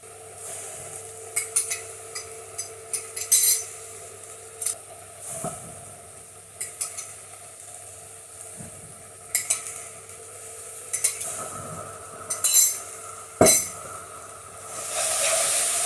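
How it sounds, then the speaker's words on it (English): Onions frying in a pan with base gravy for chicken phall, a steady sizzle under repeated scraping and clinking of a utensil against the pan in irregular bursts, close by, no talking. "You must be brave now and cook this until it's just about to stick. Then the onions will caramelise."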